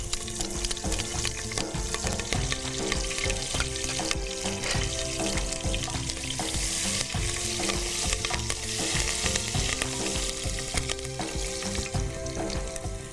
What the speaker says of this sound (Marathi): पाच बारीक चिरलेल्या मिरच्या आहेत त्याही फोडणीलाच घालायच्या सगळ्या